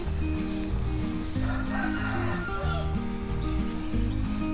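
Several chickens cluck steadily with a rooster crowing, a dense, continuous barnyard chorus close by.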